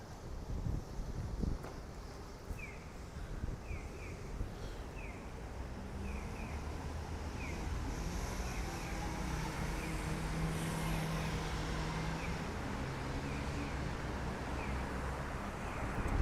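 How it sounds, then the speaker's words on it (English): Strong wind roars steadily into a muffled microphone outdoors during a walk in Okinawa, Japan, a loud continuous rushing with faint distant traffic beneath it and no talking. "Can you hear it now, the wind?"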